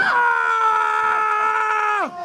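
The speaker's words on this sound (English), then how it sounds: "Widowmaker is screaming." A wrestler at a professional wrestling championship event lets out one long, loud, sustained scream of pain that holds steady for about two seconds and then drops off sharply.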